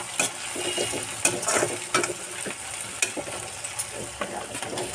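Vegetables sizzling in a hot pan, a steady frying hiss broken by frequent scraping and clinking as a spoon stirs them, close and fairly loud with no talking.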